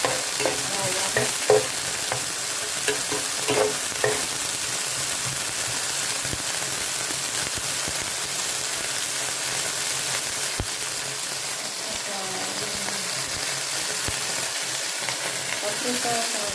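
Chicken and garlic stir-fry in a pan for chow mein, a steady loud sizzle with occasional scraping stirs, and a voice speaks faintly near the start.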